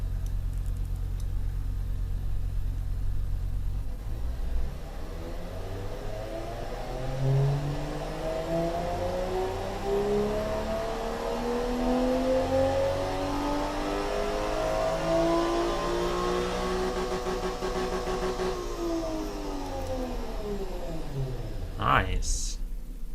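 A simulated engine in the Automation game, set up as a Nissan Skyline R32 GTR replica, idles and then revs up in one long rising sweep, holds high, and drops back, loud and alone with a brief whine at the end.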